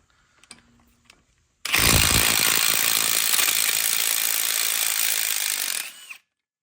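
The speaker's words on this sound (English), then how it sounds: "These are the T55 bolts. We're going to remove." Power tool loosening T55 bolts on a C5-C6 Corvette front brake knuckle: a few faint clicks, then a loud, close, continuous rattling impact-driver whir for about four seconds before stopping abruptly.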